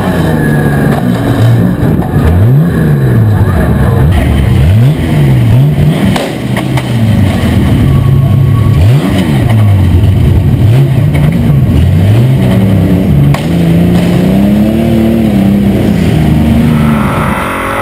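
Race cars roar around the Tasman Thunder circuit in Nelson, engines loud and close, revving up and down in repeated swelling passes with a constant rumble of the field.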